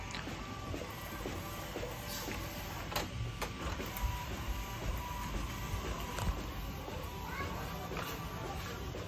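An Epson L18050 roll sublimation printer runs steadily, its mechanical whirring and faint clicks filling the room at an even level with no pauses.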